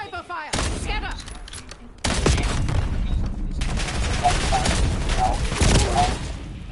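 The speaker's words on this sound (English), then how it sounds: "Sniper fire! Scatter!" Sniper and other gunfire from the video game Call of Duty Black Ops 7, a dense barrage of loud shots and booms that gets heavier after a brief lull, with voices talking in the background.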